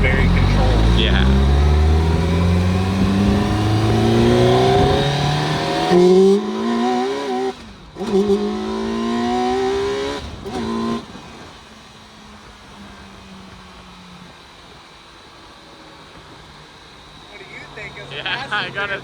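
A Campagna T-Rex three-wheeler drives and accelerates, its engine note rising in loud sweeping pitch climbs through several gear pulls, then easing to a lower cruising rumble with wind noise.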